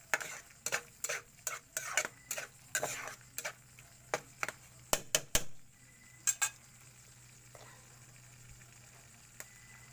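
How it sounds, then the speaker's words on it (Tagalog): Sardines cooking in a pan are stirred with a metal utensil, a quick run of distinct clacks and scrapes against the pan over a faint sizzle, then the tapping thins out to a few scattered knocks, close and without speech. "Haluin lang natin ito"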